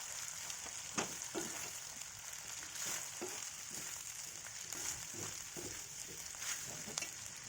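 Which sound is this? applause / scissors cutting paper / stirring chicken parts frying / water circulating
stirring chicken parts frying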